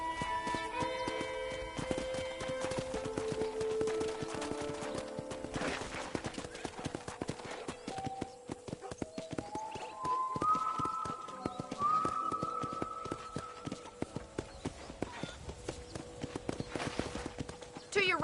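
A horse ridden in the video game Red Dead Redemption, with steady rhythmic hoofbeats clip-clopping across the whole stretch beneath sustained game tones.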